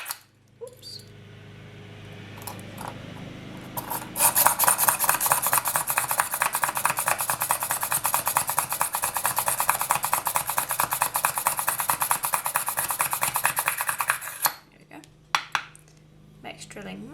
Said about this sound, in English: And I'm using a push drill.